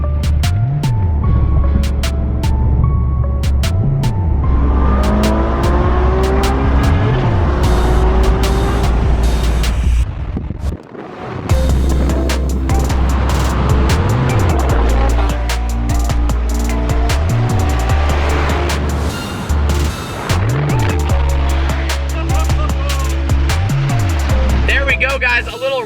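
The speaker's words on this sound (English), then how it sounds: "a little drag race action against the 918 Spider" A Ferrari and a Porsche 918 Spyder rev and roar repeatedly in a drag race, rising and falling as they accelerate hard, with a person talking over the engine noise.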